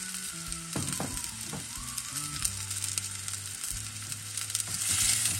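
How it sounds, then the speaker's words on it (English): Spices and a bay leaf stir-fry gently in oil over very low heat, giving a steady close sizzle broken by a few clicks and scrapes of stirring. "Let's stir fry this in a very, very low heat."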